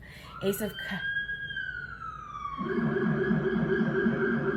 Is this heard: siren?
yes